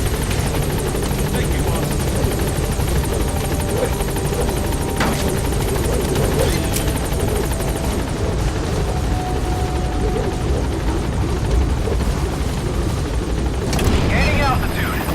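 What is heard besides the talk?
helicopter Pequod hovering at landing zone, Metal Gear Solid 5 video game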